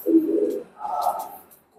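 A pair of Oman bloodline pigeons give two soft, close coos, one low then one slightly higher, with a short pause between.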